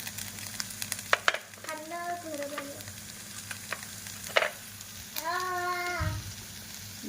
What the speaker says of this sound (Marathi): आता आपण याच्यामध्ये पनीर टाकून देऊ.